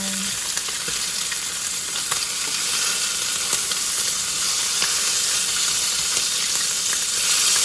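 Bacon strips fry in a pan with a dense, continuous close sizzle and hiss, small pops scattered throughout, steady and loud with no voices.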